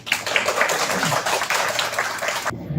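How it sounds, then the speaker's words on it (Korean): Crowd applause, a dense burst of clapping that fills the room for a couple of seconds, then cuts off abruptly into quiet. "박수로 맞이했으면 감사하겠습니다."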